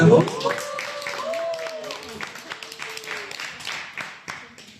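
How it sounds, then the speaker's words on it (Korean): An audience claps for an author at a talk event, scattered hand claps rising under voices speaking over the applause, then thinning out. "박수 한번 쳐주요"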